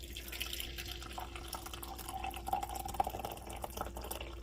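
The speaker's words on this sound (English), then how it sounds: "This one has that little strainer deal right there, and you'll just kind of pour it." Coffee poured from a French press with a strainer lid, a thin continuous trickle of liquid falling into a cup, faint and steady over low background hum.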